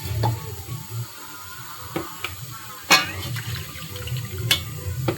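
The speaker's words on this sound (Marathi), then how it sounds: "मी थोडं गरम पाणी केलं त्यामध्ये ॲड करण्यासाठी" Hot water poured into a pan of chicken gravy makes a running, splashy pour with soft sizzling and a few sharp clinks, close and moderately loud.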